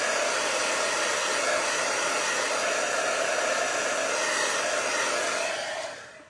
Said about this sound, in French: Là, je vais sécher comme il faut.